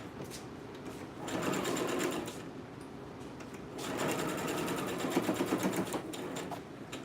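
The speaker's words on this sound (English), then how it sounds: "I'm gonna be sewing it right here and come along and come like that." A sewing machine stitches fabric in two bursts of rapid, whirring mechanical clatter, with a quiet pause between them, heard up close and without talking.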